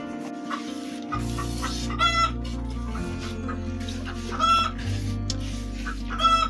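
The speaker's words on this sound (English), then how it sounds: "These chickens need to go in while we treat the house." Chickens cluck repeatedly over a steady low hum, with a few louder squawks standing out near the end.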